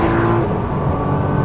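A 1700 kg Nissan GT-R Nismo on a track gives out a loud, close, sustained engine roar as it drives hard, with no talk over it.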